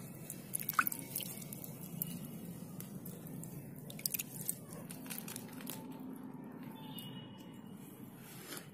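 Water drips and patters onto seedling soil in soft irregular splashes, quiet and close, with gentle wet squishing sounds.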